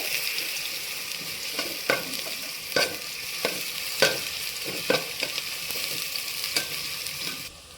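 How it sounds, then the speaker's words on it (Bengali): Chopped onions fry in a pan for pulao, a steady sizzle running throughout with regular scraping stir strokes every second or so, close and clear with no talking. "পেঁয়াজটা আমি একটু ভালো করে ভেজে নেবো খুব বেশি লাল করে ভাজবো না"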